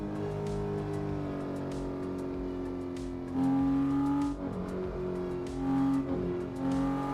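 A Porsche 911 GT3 engine in the racing game Assetto Corsa drones steadily and close, its revving pitch rising and falling through gear changes, with sharper surges of revs near the middle and end.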